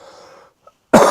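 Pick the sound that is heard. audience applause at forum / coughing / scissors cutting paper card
coughing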